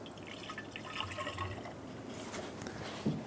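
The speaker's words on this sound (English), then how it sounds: "Fill the coolant reservoir with coolant." Coolant pours and trickles into the coolant reservoir of a 2014-2018 Chevrolet Silverado 1500 with a 5.3L V8, a soft, quiet, close liquid gurgle with a small splash near the end.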